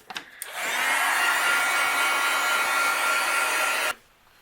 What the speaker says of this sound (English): We're going to use the heat gun and melt it.